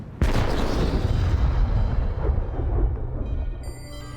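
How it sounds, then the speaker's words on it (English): A culverin, an Elizabethan-era cannon, fires a single loud, close blast that booms and rumbles on for several seconds as it slowly decays, with no voices. "The culverin's opening shot is well over a quarter of a mile"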